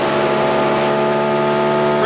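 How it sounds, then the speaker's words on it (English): An Indy race car engine drones loud and steady at Pikes Peak International Raceway during the 1997 Indy Racing League Samsonite 200, a sustained onboard whine with no talk heard. "Yeah, but listen to the engine."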